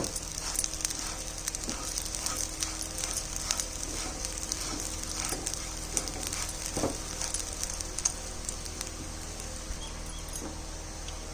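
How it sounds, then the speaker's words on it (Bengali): Ingredients for basanti pulao fry on a gas stove turned up high, giving a continuous close sizzle with occasional stirring clicks and scrapes throughout. "গ্যাসটাকে আমি এখন বাড়িয়ে দিয়ে দুই মিনিট মতো ভাজবো"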